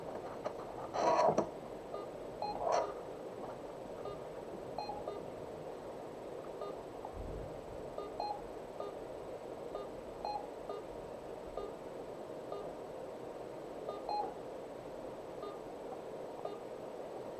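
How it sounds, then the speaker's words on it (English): Sparse, faint electronic beeps from a Pong video game sound at irregular intervals over a quiet hum, with a few louder clicks near the start. "Do you have the beeps and boops?"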